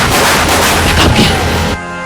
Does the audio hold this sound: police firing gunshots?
yes